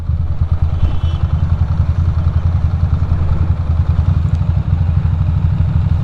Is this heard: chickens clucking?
no